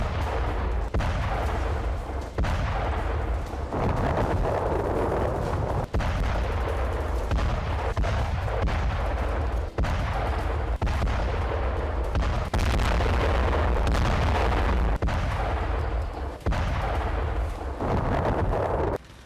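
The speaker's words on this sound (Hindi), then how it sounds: "इजराइल की वायुसेना खान यूनिस के संदिग्ध हमास ठिकानों पर बमबारी कर रही है।" Israeli air force bombardment of suspected Hamas positions in Khan Younis: a relentless barrage of heavy blasts and cracking booms, one after another with barely a pause, loud and rumbling throughout with no voices.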